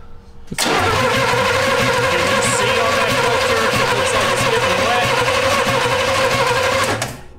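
A 1971 Jaguar fitted with a small block Chevy V8 cranks over on its starter, a steady, loud mechanical churning that runs continuously for several seconds before cutting off abruptly.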